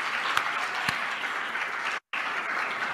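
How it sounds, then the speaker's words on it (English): Steady audience applause at a diversity and multiculturalism conference, a dense even wash of clapping that drops out in a brief gap of silence near the two-second mark before resuming. "Can we appreciate her and her team with a round of applause?"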